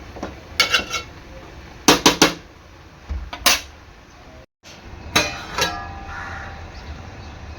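A lid goes onto a cooking pot of Maharashtrian rishi panchami vegetables with chillies and a little water, giving several sharp metallic clanks and rattles in short clusters, close by, with a quiet moment between.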